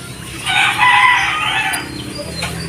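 A rooster crows once in a long, loud call with hens clucking around it, over a low steady background.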